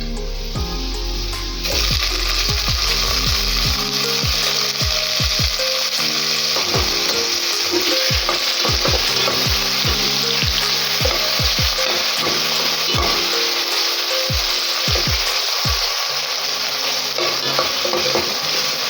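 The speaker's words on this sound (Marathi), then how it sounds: "आता यामध्ये आपण टाकूयात टोमॅटो।" Onion and tomato for egg biryani sauté in a pan, a loud continuous sizzle broken by rapid repeated spoon scrapes and clacks against the metal, close and with no talking.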